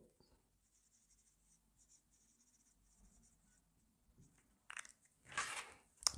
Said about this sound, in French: il va prendre son ardoise et écrire son mot.